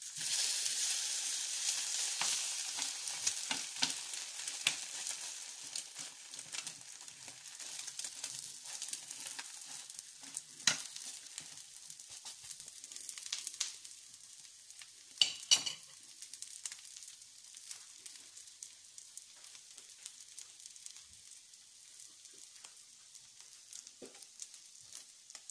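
French toast frying in a pan, a soft, steady hiss of sizzling oil with faint crackles and a few brief clicks, quiet and continuous throughout.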